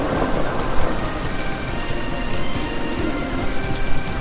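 Heavy rain pours down in a dense, constant hiss with a low rumble beneath, loud and close, with no voices.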